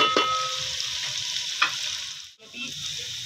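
Garlic-ginger paste frying in onion-flavoured oil for spicy chicken biryani, a close, continuous sizzle with a few stirring scrapes and a brief dip before the crackle resumes.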